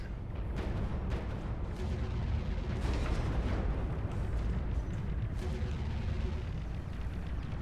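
Flak cannon fire and explosions from a spaceship battle in Fractured Space, a dense continuous rumble with repeated sharp bursts and booms throughout, loud and sustained.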